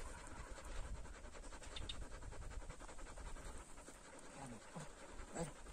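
Dogs pant rapidly and steadily close by under strong sun outdoors, a continuous breathy rhythm with faint scratching and a few small vocal sounds.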